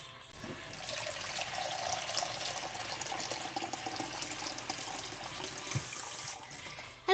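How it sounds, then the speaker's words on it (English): Water pours steadily into a cooking pot with a continuous splashing rush that lasts several seconds, about one cup added to a greens soup. "So I'm going to add 1 more cup of water."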